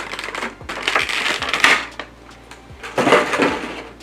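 Plastic packaging around a manga figure crinkles and crackles loudly as it is handled, in two bursts of scrunching with a brief lull between, up close and with no voices.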